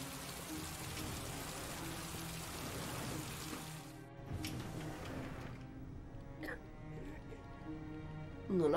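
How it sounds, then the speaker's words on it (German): Heavy rain in the Heavy Rain video game, a soft, steady hiss of falling rain. It runs for several seconds under game music and ambience, then thins out, with a brief louder sound at the end. "Heftiger Regen."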